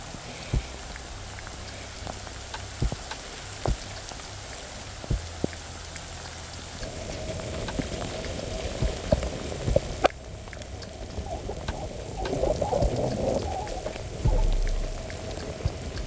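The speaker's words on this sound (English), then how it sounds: "And it's raining." Rain patters steadily during a long road bike ride from Gold Coast to Brisbane, a soft continuous hiss with scattered sharper drops and occasional louder splashes.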